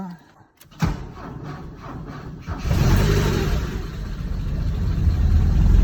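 An old Porsche 944 running on stale petrol cranks and catches after a sharp click, then settles into a loud, rough idle that rises as the engine is revved, close to the car.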